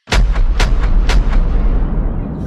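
Cannon fire from an early fort setting: several heavy booming blasts in quick succession, loud and close, with a rumbling tail that fades between shots and no voices.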